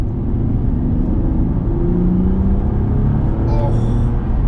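A Bentley Continental in sport mode drops down through the gears, its engine a loud continuous rumble with rising and falling tones as the revs change, heard from inside the car.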